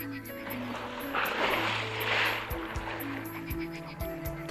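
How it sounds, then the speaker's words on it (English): Broad rushing splashes of water and flapping as pelicans take off from the water, building and fading over several seconds, with a steady low hum running underneath throughout. "Pelicans are taking off the water hard with a noise"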